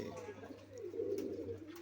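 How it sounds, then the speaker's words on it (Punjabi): Pigeons coo softly in a low, rolling murmur, a quiet flock heard close by against faint background noise. "ਦੇਖੋ ਕਬੂਤਰ ਆਪਣੇ ਕਿੰਨੇ ਖੁਸ਼ ਨੇ"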